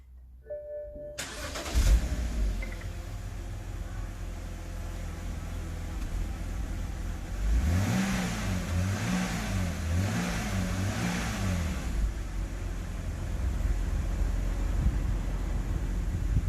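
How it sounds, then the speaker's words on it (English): A BMW 328i on its stock exhaust cranks and starts, then settles into a steady idle before several rhythmic revs rise and fall, close and fairly loud, with no talking. "Now let's see how the stock exhaust sounds like."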